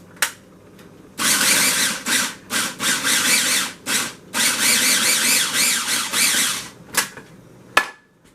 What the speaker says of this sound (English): I'm just going to let my food processor do all the chopping